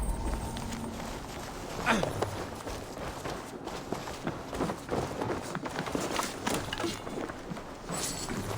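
Horse hooves drum in a steady galloping rhythm in Assassin's Creed Valhalla, fairly quiet and muffled beneath other game sounds.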